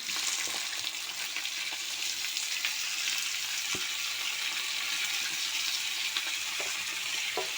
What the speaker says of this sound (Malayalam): ഗൈസ് അങ്ങനെ നമ്മുടെ കടുക് പൊട്ടി. നമുക്ക് അരിഞ്ഞ കോവയ്ക്ക ഇട്ട് കൊടുക്കാം.